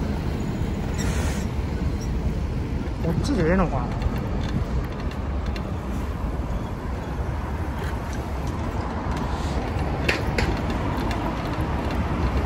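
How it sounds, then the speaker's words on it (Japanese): A steady, heavy rumble of a train crossing a bridge near Shanghai Railway Station, continuous throughout, with faint background chatter and street noise layered on top. "この橋は何でしょう、これ。 ああ、電車が走ってるんか。"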